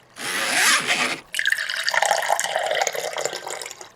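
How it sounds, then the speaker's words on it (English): Water pouring to fill a swimming pool: a loud, close rush of water that briefly cuts off, then resumes as a steady splashing, gurgling flow. "Filling up swimming pools."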